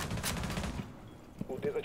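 Gunfire in the video game Rainbow Six Siege, a burst of sharp shots at the start followed by quieter game sounds and small clicks.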